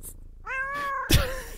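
A cat in the video game Move Animals lets out a single clear, drawn-out meow, close and alone, ending with a short soft thump.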